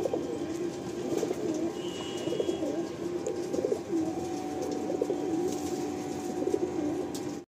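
Pigeons at a loft in Kolkata coo in low, steady murmurs, the sound continuous and moderately close with no talking.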